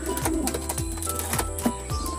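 Racing pigeons at a pigeon pooling release, with a steady chorus of soft cooing and bird calls layered over a busy outdoor background, moderately close.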